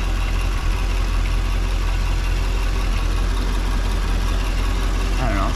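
The LS engine of a C6 Corvette idles steadily and loudly nearby, with a continuous low rumble and no clear breaks.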